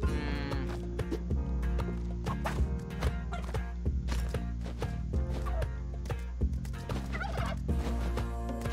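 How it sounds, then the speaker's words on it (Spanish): Repeated turkey gobbles in the video game Spelunky 2, riding over constant chiptune-style game music and busy effects, loud and close throughout. "Voy a llevar un pavo para aumentar mis saltos."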